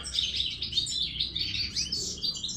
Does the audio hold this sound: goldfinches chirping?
yes